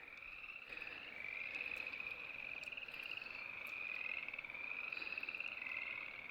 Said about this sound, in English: And a lot of toads.